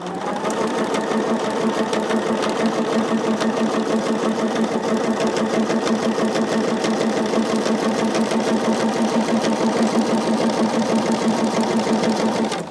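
Close sewing machine stitching a jelly roll quilt, running loud and continuous with a fast, even mechanical whir for about twelve seconds before stopping, with no talking.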